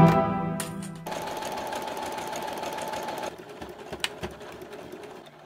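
A sewing machine stitches a tier of a large skirt in fast mechanical bursts, close and fairly loud, with short pauses and a few sharp clicks between the runs of stitching.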